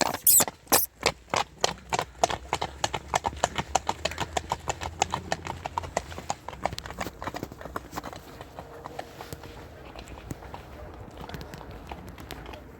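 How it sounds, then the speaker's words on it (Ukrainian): Hooves clip-clop in a steady, brisk rhythm, loud and close at first, then blurring into a softer, denser patter as the horse moves on. "Отакі є коні в Тисменичанах."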